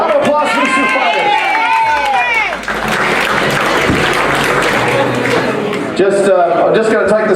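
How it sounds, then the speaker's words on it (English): Crowd applause and cheering at a boxing weigh-in for two fighters, a dense, loud wash of clapping running steadily through the whole stretch while an announcer's voice talks over it at the start and end. "Round of applause for these two fighters."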